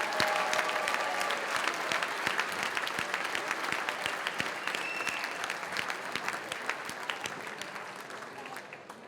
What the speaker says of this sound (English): let's have another round of applause for our 36 difference makers